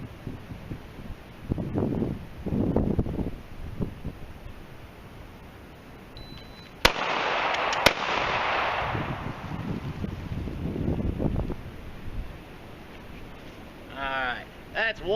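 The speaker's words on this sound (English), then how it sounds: "This wind is unbelievable today." Strong wind gusting at an outdoor shooting range, a steady broadband rush buffeting the microphone throughout, broken by two sharp gunshot-like cracks, with someone talking over it.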